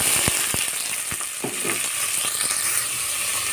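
Onions frying in oil in a pressure cooker with cumin, cinnamon, cloves, cardamom and fenugreek, a steady close sizzle with a few sharp clicks of stirring, no talking.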